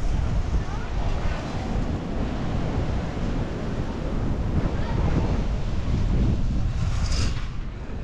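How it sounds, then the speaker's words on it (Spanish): Sea waves roll onto the beach at Mahahual in front of the boardwalk, a continuous rushing surf wash heavily buffeted by wind noise on the microphone, loud and unbroken for the whole stretch. "todo el tiempo estar escuchando el mar"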